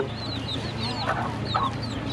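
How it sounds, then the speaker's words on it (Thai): Young chicks cluck and cheep steadily while pecking for worms at a Samut Songkhram outing, with soft overlapping chirps and clucks over a constant low outdoor hum and no talking. "เขาเรียกว่าลูกเกี๊ยบ มันหาอะไรอ่ะ หาหนอนกินมันคุยมันคุย"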